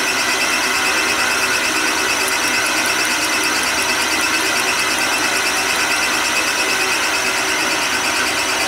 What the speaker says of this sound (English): I run the lathe in the opposite direction